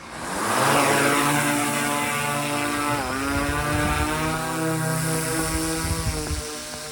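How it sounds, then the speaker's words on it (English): A survey drone lifts off near a tree and climbs away in winter storm conditions over a solar field, its propellers whining in a loud, steady tonal hum that rises in pitch at takeoff and holds as it flies. "Drone's initializing."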